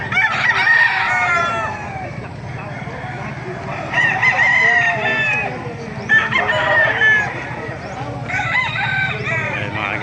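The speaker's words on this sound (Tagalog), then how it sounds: "Napakaraming manok. Dumagsang manok." Crowded poultry market in Bocaue, Bulacan, full of roosters and chickens: repeated overlapping crows and clucking ring out close and loud, with people talking in the background.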